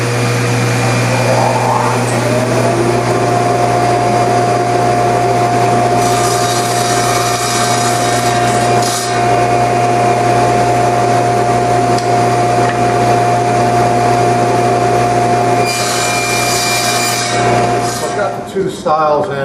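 A power saw, likely a miter saw, squares the end of a wooden stile for a James Krenov-inspired case: a loud, steady motor whine runs almost the whole time, with the pitch shifting briefly near the cut, then spins down at the end.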